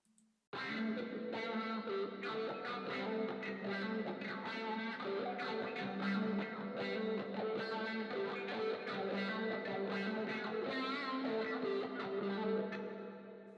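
A fuzzy, distorted electric guitar through a Marshall head with Univibe and fuzz plays a continuous swirling riff with a warbling, pulsing modulation effect, no talking.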